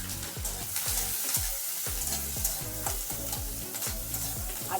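Onion, garlic, green chillies and tomato fry in hot oil with a close, continuous sizzle. Repeated rhythmic scraping strokes of stirring run under the sizzle, and no one speaks.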